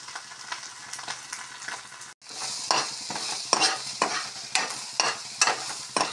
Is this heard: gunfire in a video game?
no